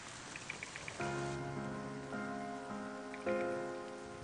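Rain in a Final Fantasy XIII cutscene, a soft patter on surfaces under sustained musical tones that swell in and shift as it plays.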